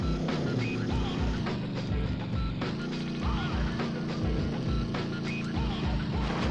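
Traffic in a PlayStation video game from a PSX interactive sampler disc, a loud continuous rumble of vehicle engines with rain and music layered in, steady throughout.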